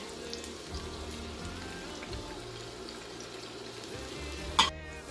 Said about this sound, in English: we're going to soften up these vegetables